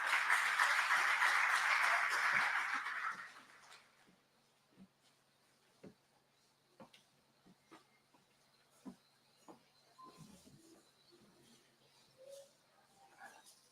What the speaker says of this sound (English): We can clap hands as he comes for us.